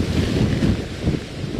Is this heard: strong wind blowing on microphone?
yes